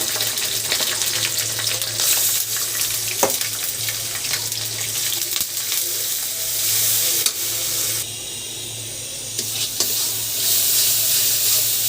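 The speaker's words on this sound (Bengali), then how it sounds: "বাদামটা তেলের মধ্যে ভেজে নিলাম" Peanuts fry in hot oil in a pan for a chepa shutki dried-fish and peanut mash, giving a steady, close, continuous sizzle that runs unbroken with no talking.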